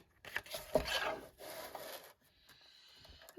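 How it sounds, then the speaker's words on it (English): A guillotine cutter slices through paper for a card, a close rubbing, scraping stroke followed by quieter handling sounds. "now I'm gonna get my guillotine cutter here"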